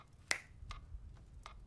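Fingers snap during a hypnosis scene in a horror film: one crisp, close snap, then two softer snaps over a low background hum.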